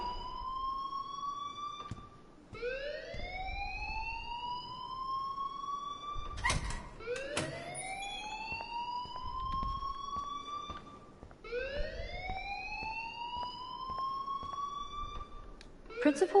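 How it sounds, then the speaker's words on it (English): Alarm ringing in the video game Life is Strange, a loud rising siren wail that sweeps upward and repeats in long cycles, with occasional clunks between sweeps and no talk. "please turn off that alarm since that's your job."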